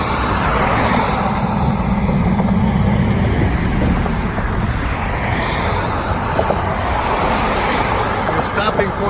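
Road traffic rushes past nearby on a New Jersey roadway near the Delaware Water Gap, a loud continuous roar of passing vehicles with wind buffeting the microphone throughout.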